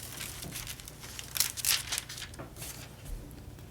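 Foil transfer sheet peeled slowly off a handmade Easter card, giving soft crinkling and tearing crackles with a sharper burst midway, close and fairly quiet.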